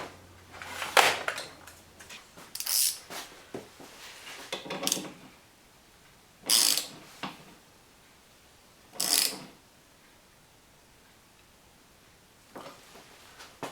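Several short bursts of clicking from a socket wrench ratcheting on a car wiper, spaced apart with quiet gaps between them.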